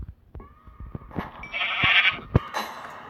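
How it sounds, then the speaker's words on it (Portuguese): Sheep bleat in the video game Minecraft, a drawn-out wavering bleat rising in the middle, set among several short clicks and thumps of in-game movement. "Vem aqui, ovelha."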